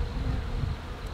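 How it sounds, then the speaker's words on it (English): Honey bees droning steadily around an open beehive during an inspection, a dense, continuous close buzz with no voices. "There's bees."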